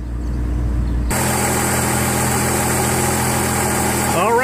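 A Chevrolet Trailblazer engine idles steadily after repair of a leaking oil sending unit, a loud, close, even hum with a quieter start before the engine noise fills in.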